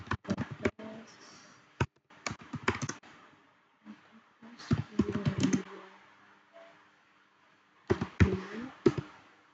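Commands being typed on a computer keyboard while configuring VLANs in a networking lab: bursts of close, crisp key clicks separated by short pauses, with no voice over them.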